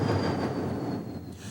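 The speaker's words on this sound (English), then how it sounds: "Trains from Belfast terminate in the side platforms at Dublin-Connolly" A train moving through Dublin Connolly station, a steady close rumble with a thin high wheel squeal running over it.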